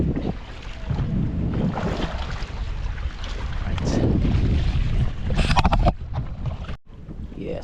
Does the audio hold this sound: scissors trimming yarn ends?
no